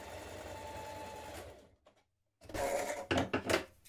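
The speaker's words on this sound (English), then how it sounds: "we're stitching a 1 centimetre seam down this side" A sewing machine runs steadily while stitching a 1 cm seam on a knit cardigan, pauses briefly into near silence, then restarts in short bursts.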